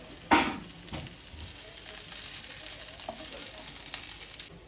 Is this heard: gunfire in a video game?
no